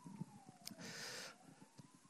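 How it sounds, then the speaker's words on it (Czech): A siren wails faintly in the distance outside while someone speaks indoors. The wailing tone drifts steadily through the clip, and a brief louder whoosh of a passing vehicle comes midway. "Čo to je? Sanitka?"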